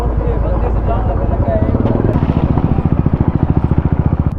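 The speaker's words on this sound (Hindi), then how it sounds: "मोटरसाइकिल तो जाने दो भाई।" A motorcycle passes close by on a road near a temple in Jaipur. Its loud engine throbs and pulses faster and more sharply as it nears, with voices around it.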